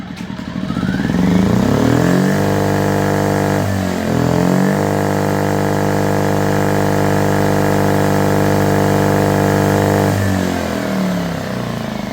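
A 2021 Firman W2000i inverter generator that had no spark starts and runs, its engine surging up at first and then settling into a loud, steady hum that holds with a brief dip partway through before easing off near the end.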